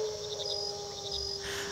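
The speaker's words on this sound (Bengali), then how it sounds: "ঝিঁঝি পোকার ডাক অবিরাম শোনা যাচ্ছে।" Crickets chirp steadily at night near a forest, a soft continuous trill with faint pulsing calls layered over a quiet background.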